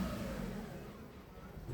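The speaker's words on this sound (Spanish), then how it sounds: "tiene un ralentí inestable, está prendido el check engine y el carro quiere apagarse" A car engine idles unevenly and threatens to stall with the check engine light on, a MAP sensor fault suspected: a steady, close low rumble with slight wavering, heard alone.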